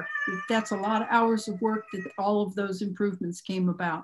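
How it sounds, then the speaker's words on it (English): A house cat meows in the background of a Brisbane City Council special meeting, its repeated calls mixed in under a man's steady, close speech. "that's the cat in the background echoing the same as what I just said"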